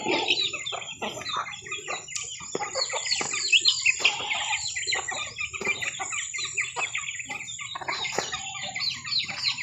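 Several chickens cluck and chatter continuously nearby while eating, with soft pecking sounds and short bursts of busier clucking throughout.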